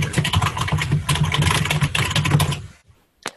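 Rapid continuous typing on a computer keyboard picked up by an open microphone during an online meeting, dense close clattering keystrokes over a low hum, stopping abruptly, then one last isolated click.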